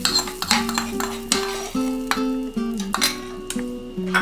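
A spoon stirs tempering into a pot of dal makhani, giving repeated metallic clinks and scrapes against the pan in an uneven rhythm, close and fairly loud with no talking.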